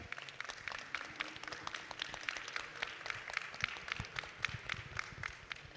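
An audience applauds the speakers at the close of a panel discussion on the future of cinema: dense, steady clapping from many hands that fills the room for several seconds, with no voices over it.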